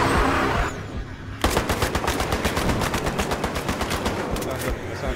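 Rapid automatic gunfire in the video game Battlefield Hardline comes in one sustained, loud burst of evenly spaced shots after a short lull, with game noise underneath.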